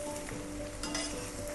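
Onions fry in a pan over a raised gas flame, a faint close sizzle with occasional crackles and a steady tonal hum underneath.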